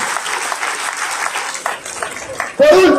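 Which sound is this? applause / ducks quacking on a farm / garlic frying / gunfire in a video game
applause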